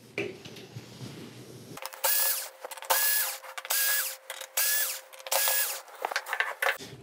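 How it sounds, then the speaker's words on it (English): A ratchet tool backs screws out of a board inside a Sony KDL-46EX710 television, giving five or six bursts of rapid close clicking separated by short pauses, with no talking. "Once we get these screws removed, we should be able to get this lifted up just enough and separated"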